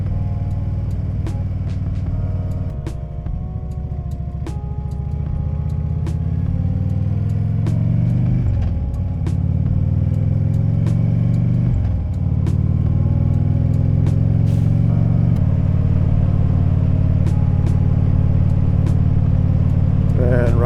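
Steady low rumble of a car cruising down a highway after new shocks were fitted, with engine tones rising and settling through gear changes and a person talking over the road noise throughout.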